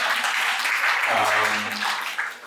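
Audience clapping at a leadership talk session swells quickly into a loud, dense burst, then tapers toward the end.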